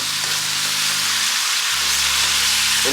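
Pork curry frying in a pan with fat juices cooking out, a loud steady sizzle and crackle close up, with a low hum shifting underneath and no talk.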